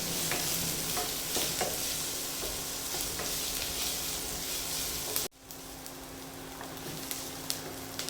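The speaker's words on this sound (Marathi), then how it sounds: "आणि कांदा मऊ होईपर्यंत आपल्याला परतून घ्यायचा" Chopped onion sautéing in a pan until soft for a Maharashtrian bitter gourd dish, a dense close sizzle with light stirring that drops in level partway through and continues quieter.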